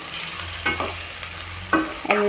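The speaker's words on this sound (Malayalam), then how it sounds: "എന്നിട്ട് നല്ലോണം ഒന്ന് മിക്സ് ചെയ്ത് കൊടുക്കുക." Sabudana (tapioca pearls) stirred in a frying pan, with a constant light sizzle broken by several close scraping strokes of a spoon against the pan, loudest near the end.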